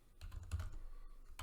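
Quick typing on a computer keyboard, a close run of soft clicking keystrokes in uneven bursts with no talking.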